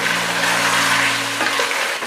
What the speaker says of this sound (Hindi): अब हम इसे अच्छी तरह भूनेंगे।